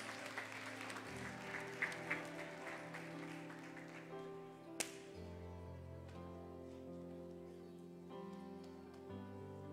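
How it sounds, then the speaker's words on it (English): Congregation applause during a Sunday church service, a soft wash of clapping under sustained organ or keyboard chords, with a few louder individual claps and a sharp hit near the middle. "Y'all give the Lord a round of applause in Jesus' name."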